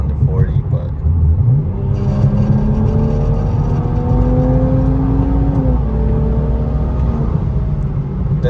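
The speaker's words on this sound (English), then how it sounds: "I'm gonna do a little pull from like 40 maybe" A BMW F30 accelerates hard on a freeway from about 40, its engine note climbing steadily under loud cabin rumble while someone talks over it.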